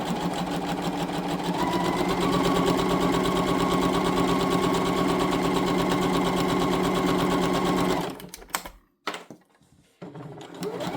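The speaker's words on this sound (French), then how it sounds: "Et je couds tout le long" A sewing machine stitches along a fabric scrunchie in one long steady run of rapid mechanical whirring, loud and close, then stops and restarts briefly in short bursts near the end.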